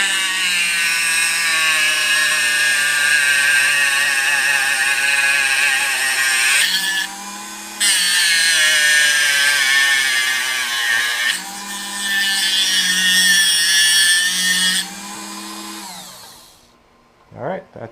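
A loud, high-pitched power tool grinds steadily, cutting a slot along a metal tube in long runs with brief pauses, then winds down to a stop.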